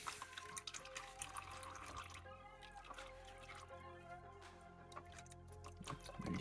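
Motorcycle engine oil pours out steadily during an oil change with the filter loosened, a soft continuous trickling and dripping stream, faint and close, with no talking.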